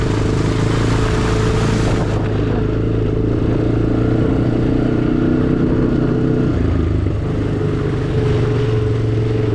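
A Honda Recon 250 ATV spinning around on loose ground makes a loud, sustained engine drone, holding high revs near the listener the whole time, with a slight drop partway through.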